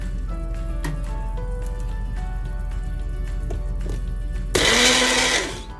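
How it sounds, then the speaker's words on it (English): A blender whirs loudly with a steady hum, then surges to a harsh roaring spin before winding down at the end, blending a thick paste of yogurt, cashew nut, coconut and poppy seeds. "We just move the blender over."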